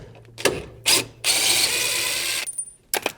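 A hand ratchet clicks quickly while turning out fog light bolts with a 9/32 bit, with short bursts of ratcheting followed by a longer continuous run of rapid pawl clicks, close and fairly loud.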